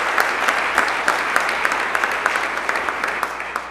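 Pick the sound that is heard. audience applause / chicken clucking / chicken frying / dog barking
audience applause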